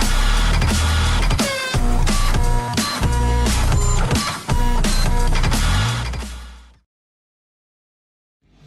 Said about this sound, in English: Printer, jam.